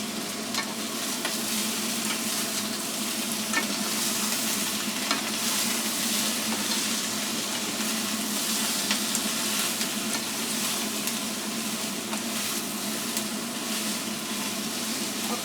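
Cabbage frying in a pan as it is stirred, a continuous loud sizzle and crackle holding steady throughout with faint scraping, no voices.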